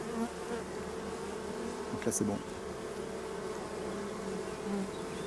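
Honeybees buzzing around a small nucleus hive, a soft continuous hum close by, with a brief louder buzz as one passes near, under a quiet spoken voice.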